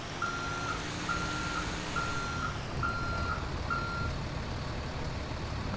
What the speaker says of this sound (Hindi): अरे टार की गाड़ी आ रही,